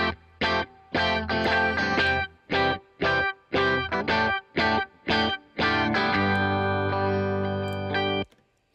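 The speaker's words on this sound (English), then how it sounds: "There's some saturation and distortion in there that I don't like" Distorted electric guitar with heavy saturation, choppy stabbed chords in a rhythmic pattern, then a long sustained ringing chord.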